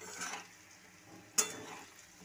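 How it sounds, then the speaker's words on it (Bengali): Poppy seed paste frying with potatoes in a pan, a quiet steady sizzle with one sharp scrape or clink partway through, heard alone without talk. "পোস্তটাকেও আলুর সঙ্গে ভালো করে ভেজে নেব।"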